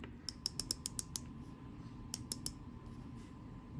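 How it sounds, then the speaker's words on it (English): The bezel of a NOVE diver watch is turned, giving crisp, close ratcheting clicks: a quick run of about seven, a pause, then three more, in a quiet room. "the first thing I want to do is check out this bezel action. Look how cool the mechanism is."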